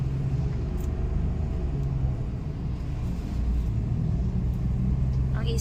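Heavy road traffic crawls across the Old Bridge, a close, steady rumble of car engines and tyres with occasional louder passing vehicles, while people talk nearby.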